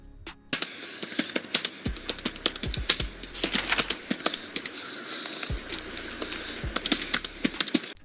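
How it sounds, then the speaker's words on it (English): Rapid, irregular keyboard tapping fills the recording, with close clicks over a steady hiss of breathing into the microphone. "just tapping on the keyboard and a lot of breathing"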